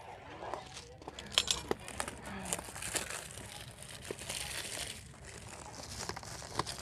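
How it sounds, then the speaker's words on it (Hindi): A packet of large anar fountain fireworks is torn open, with crinkling and tearing of packaging in short, uneven bursts at close range and quiet background talk. "एक पैकेट आपको ओपन करके दिखाते हैं कि किस टाइप का कितना बड़ा अनार है अंदर"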